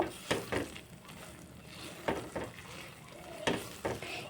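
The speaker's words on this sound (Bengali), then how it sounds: "চার মগজটা দিয়ে একটু নাড়াচাড়া করে নেব" Melon seeds stirred into a motichur laddu mixture in a pan, a faint background sizzle broken by several distinct spatula scrapes and taps against the pan, close and without speech.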